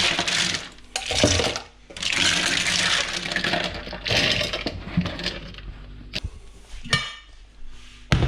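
Blue mussels being tipped into a cooking pot make clattering, rattling bursts of shell against metal, loud and close, with pauses between pours.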